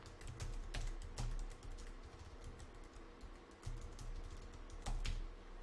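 Close-up typing on a computer keyboard, irregular clicking keystrokes with a few louder key presses, no voices.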